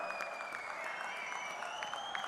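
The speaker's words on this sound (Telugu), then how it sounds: "గట్టిగా చప్పట్లు కొట్టి మనస్ఫూర్తిగా అభినందించండి" Dense crowd applause at a TDP Mahanadu political gathering, sustained clapping from many hands at moderate distance, with a faint high whine running underneath.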